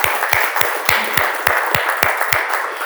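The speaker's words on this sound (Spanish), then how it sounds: "Denle un fuerte aplauso al Señor" Church congregation clapping after a prayer in a Spanish-language service: sharp, evenly spaced claps in a steady rhythm, about four per second, loud and close with a slight room ring.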